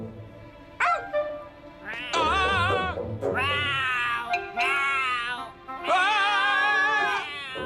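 A cat meows repeatedly in drawn-out, wavering cries, some short and some long, loud and close with brief pauses between.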